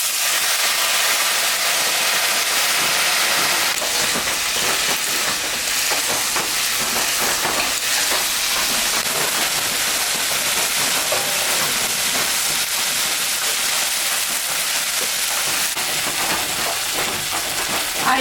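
Raisin-soaking water is poured into a pan of chira pulao, beaten rice cooking with turmeric, and sets off a loud, steady, hissing sizzle that lasts the whole time, with faint crackles inside it.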